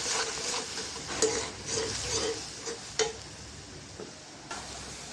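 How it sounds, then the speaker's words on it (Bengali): Turmeric, coriander, chili powder and salt being fried and stirred in a pan, a soft continuous sizzle under repeated scraping strokes and a few sharp clicks of a utensil against the pan. "হলুদের গুঁড়া ধনিয়ার গুঁড়া লবণ মশলাটা কষাই নেব"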